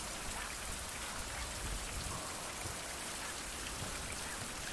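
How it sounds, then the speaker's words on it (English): Steady rain falls throughout a video game scene, a dense, even hiss of drops across the whole span with no other sounds standing out. "I can't light a torch because of the rain."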